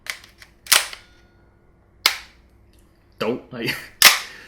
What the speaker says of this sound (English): the sound of the bolt being racked